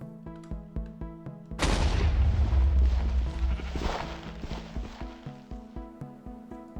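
A loud burst of explosions in Minecraft 1.19.3 with Fabric mods crashes in and roars for about two seconds, then fades, set against a steady rhythmic in-game musical loop before and after.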